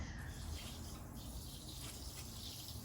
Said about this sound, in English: Now I'm going to water my worms to keep them moist.